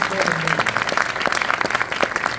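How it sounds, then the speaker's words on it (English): Audience applause at a documentary screening about AMC, the last independent automaker, a steady crowd clapping that fills the short stretch, with a voice speaking over it. "She deserves the applause more"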